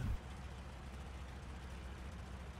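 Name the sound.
Henschel Hs 129B-2 port engine running in a flight simulator game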